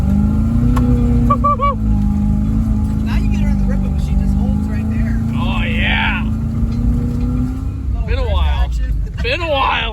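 A small-block Chevrolet V8 in a Suburban abandoned for 13 years idles with a steady low rumble throughout, with people talking over it and a few brief higher whines near the end.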